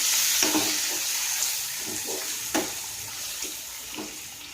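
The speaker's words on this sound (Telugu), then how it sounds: "ముందుగా సిద్ధం చేసి పెట్టుకున్న ఆనపకాయ ముక్కల్ని వాటర్ పిండేసి పెట్టుకున్న ముక్కల్ని ఈ పోపులో వేసేసుకుని అటు ఇటు కలుపుకోవాలి" Squeezed bottle gourd pieces are stirred into a hot tempering in a pan, giving a steady close sizzle and frying crackle with soft scraping stir strokes at intervals.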